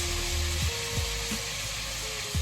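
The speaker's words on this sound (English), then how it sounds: "So what I'm going to do now is place my oxtail in the pot." Oxtail pieces lowered into hot oil in a pot for Jamaican oxtail, a steady close hiss of frying with a few soft clinks and scrapes as meat goes in.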